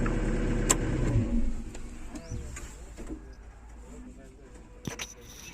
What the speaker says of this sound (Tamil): இப்போ நம்ம இன்ஜின் ஆஃப் பண்ணுறோம் பாருங்கள்